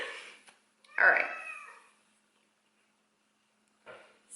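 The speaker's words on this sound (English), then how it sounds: "You hear my kitty cat in the background." A house cat gives one clear, drawn-out meow in a quiet room, followed by silence and a faint short sound at the end.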